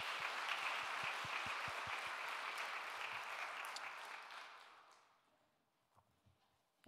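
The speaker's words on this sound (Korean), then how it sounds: "하나님께 더 큰 박수, 영광 올려드립시다." Congregation applause during a church dedication and ordination thanksgiving service: a broad, sustained wave of clapping with some rhythmic unison beats, fading out after about five seconds into near quiet with a few faint sounds.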